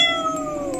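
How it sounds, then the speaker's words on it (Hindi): A cat meows from inside a closed wardrobe in a horror audio drama, one short, loud, tonal meow heard close and alone. "ये बिल्ली इस बंद अलमीरा के अंदर से कैसे निकली?"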